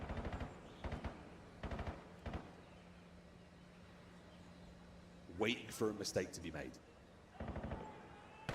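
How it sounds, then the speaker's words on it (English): Call of Duty esports match gunfire: several short automatic bursts crackle at intervals, fairly quiet, with a brief stretch of a commentator talking between them. "Slight exchange of gunfire there down by the railway tracks."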